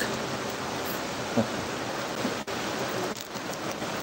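Steady rain falling in cool weather, a dense, even hiss that holds from start to finish with no voices.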